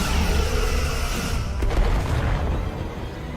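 Starship weapons firing in the Star Trek Resurgence video game, a loud dense rumbling boom with a sharp burst near the middle, sustained over continuous low roar.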